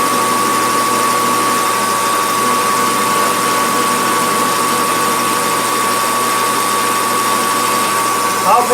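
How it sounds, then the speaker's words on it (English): A metal lathe runs at 200 RPM with a mister spraying coolant, giving a steady, even mechanical hum and whine with a faint constant tone throughout and a small bump at the very end. "I went down to 200 RPM, and that's about all of it. That's good, that's comfortable. The lathe's not straining or anything."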